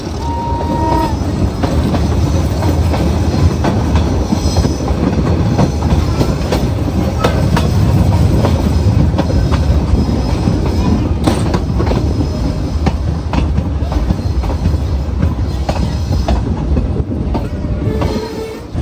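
A diesel-hauled meter gauge train running near Goram Ghat, heard from inside as a loud, continuous rumble with rhythmic clickety-clack of wheels, occasional squeals and a distant horn.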